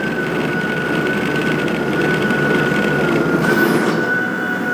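A Toro e26 Power Max 60V battery snow blower with its auger and flywheel running makes a continuous mechanical whir with a steady high whine, loud throughout, a close, even motor drone without pauses.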